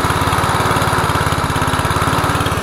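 A homemade mud motor drives a small boat across a lake, its worn old engine buzzing loudly and continuously with a fast, steady pulsing drone close by and no voices over it.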